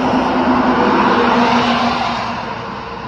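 A Hyundai Creta car engine runs loudly and steadily nearby, a constant rumbling hum that eases off slightly toward the end.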